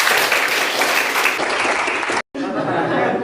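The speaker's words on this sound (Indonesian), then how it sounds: "Tepuk tangan buat saya." Steady applause from a group in a classroom lesson, loud and continuous for a few seconds, breaking off briefly before a quieter stretch of clapping resumes.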